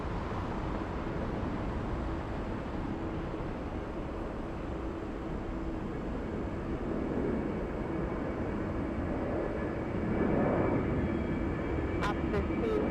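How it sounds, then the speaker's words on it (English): An Airbus A330neo airliner on short final approach into Atlanta Hartsfield-Jackson airport, a steady broadband jet roar that swells slightly louder toward the end, heard from a distance under continuous airport ambience. "Let's go over to the A330neo on short final."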